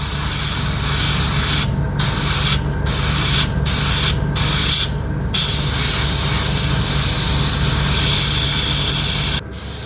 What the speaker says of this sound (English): Let me quickly spray it here, and I'm going to cover this wing.